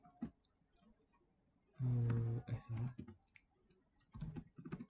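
Quiet, scattered clicks of a computer keyboard as a command is typed, broken by a short burst of denser noise.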